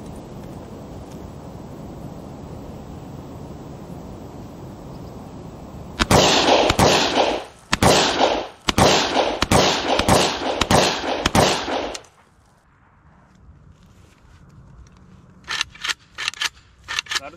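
Blank-firing gun, an FD20 magazine being emptied, fires a rapid string of loud sharp cracks outdoors, followed after a quiet pause by a quicker, fainter burst of shots.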